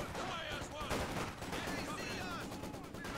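Machine gun fire in the World War II strategy game Company of Heroes 2: dense, rapid overlapping bursts and crackling shots that continue without a break, with someone talking over the battle.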